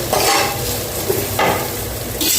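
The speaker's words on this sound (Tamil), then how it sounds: "வதங்கட்டும் அடுப்பில்" Onions sautéing in a pan on the stove give a loud, steady sizzle with a few stirring scrapes, heard up close with no talking.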